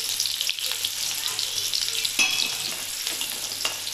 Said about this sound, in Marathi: कांदा जो आहे लाल भाजून घ्यायचा.